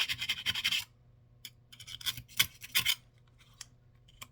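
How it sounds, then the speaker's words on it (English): A small round file rasps burrs off the end of a hose in a few close, scratchy bursts of strokes separated by short pauses. "Take a round file, a small round file, to clean off the burrs."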